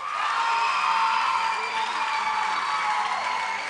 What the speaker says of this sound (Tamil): நீங்க ரவிக்காக ஒரு மிகப்பெரிய கைத்தட்டல் எல்லாருமே.